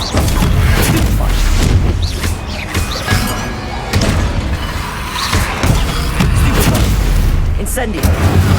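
Spell combat in Hogwarts Legacy, including the Stupefy stunning spell: a rapid series of loud magical blasts, booms and crashes with whooshing bursts, dense and continuous.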